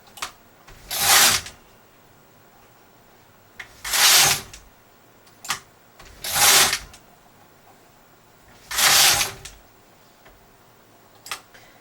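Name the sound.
clicking noise of knitting needles not pushed far enough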